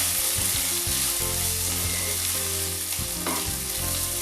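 Rice frying in a pot as it is stirred, a steady close sizzle running throughout with scraping stir strokes breaking in at irregular moments.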